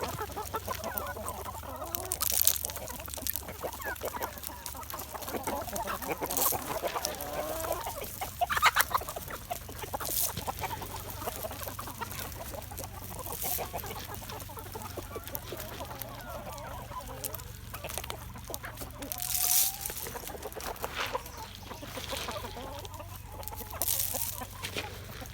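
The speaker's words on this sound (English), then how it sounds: "all the chickens are trying to get fed" A flock of chickens clucks and squawks continuously nearby while being fed pellets, with scattered louder calls and scuffling over a low background rumble.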